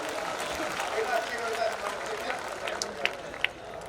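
A large outdoor crowd at a Hindi comedy poetry gathering applauds, a broad steady wash of distant clapping with a few sharper claps standing out near the end.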